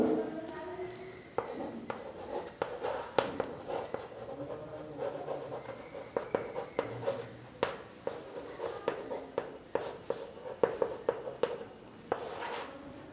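Pen or chalk strokes scratch and tap across a writing surface in short irregular bursts while a definition of a substitution reaction is written out by hand for a Class 7 science lesson, with soft rubbing in between.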